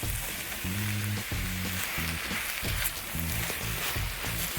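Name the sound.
peppers sizzling as they are added to the pot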